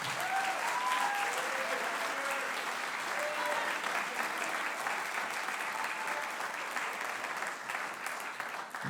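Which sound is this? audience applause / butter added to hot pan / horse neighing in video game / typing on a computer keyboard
audience applause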